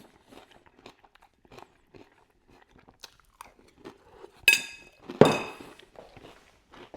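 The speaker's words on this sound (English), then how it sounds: "Huge bowl of cereal with plenty of fruit in there." A big bowl of cereal with fruit is chewed close up: soft scattered bites, then two sharp loud crunches near the end, with quiet gaps between.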